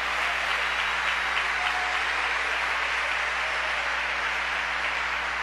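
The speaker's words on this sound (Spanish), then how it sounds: "Dele ese aplauso fuerte al Señor" Church congregation at a Sunday service breaking into sustained applause, a dense even wash of clapping that carries on steadily throughout with a low hum beneath.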